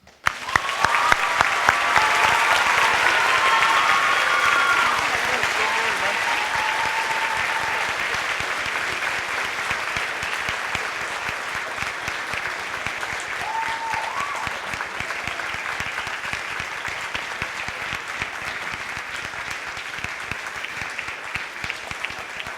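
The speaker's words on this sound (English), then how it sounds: "Round of applause." Sustained applause fills a senior awards ceremony hall, loud at first and easing slightly while continuing for over twenty seconds, with faint whoops and voices rising above the clapping early on.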